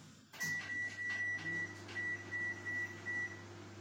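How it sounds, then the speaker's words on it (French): A kitchen microwave oven starts with a low steady running hum while a string of about nine short, evenly spaced electronic beeps rings out over it, quiet and nearby. "Et nous allons mettre au micro-ondes."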